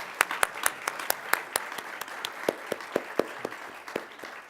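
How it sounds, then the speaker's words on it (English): A round of applause at an anniversary reception for a global health law institute, with sharp individual claps standing out over a steady crowd patter for several seconds. "I'd like you to join me in a round of applause for Larry and for Oscar."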